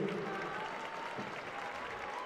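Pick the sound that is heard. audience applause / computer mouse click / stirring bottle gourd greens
audience applause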